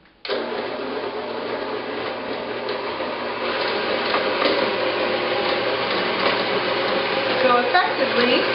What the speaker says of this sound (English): So effectively, I am mashing the pumpkin.